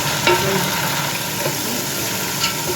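Garlic and ginger fry with onions in a pan as a steady, close hiss fills the clip, with a few faint scrapes of stirring and no talk.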